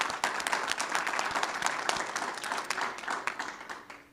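Meeting attendees clapping for a Wisconsin Teacher of the Year at a board of education meeting, moderately loud scattered applause that thins and fades toward the end.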